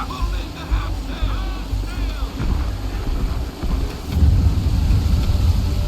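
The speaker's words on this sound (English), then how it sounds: "Heavy gusts, Captain." Strong wind roars and gusts across the sea with rushing water below, while a voice talks briefly over the din, in the video game Assassin's Creed 3 Remastered.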